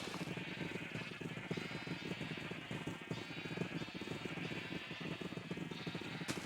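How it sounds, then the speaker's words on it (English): Sheep bleating in the Minecraft FTB Interactions modpack, repeated wavering cries over a steady busy background of game sound and clip-clop-like noise, fairly even and continuous throughout. "What happens if we use this on a sheep?"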